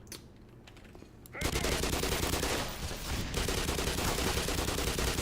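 Gunfire in the video game Black Mesa, starting with faint clicks before a sudden sustained burst of rapid automatic shots that continues dense and loud to the end.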